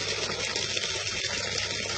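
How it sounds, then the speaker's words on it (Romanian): Tap water at Bordeasca, Oghilești gushes steadily and loudly from a close outlet, a continuous broadband rush with no talking over it. "Asta e apa, uitați. Uitați și curge."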